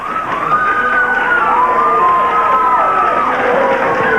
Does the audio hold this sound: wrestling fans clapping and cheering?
yes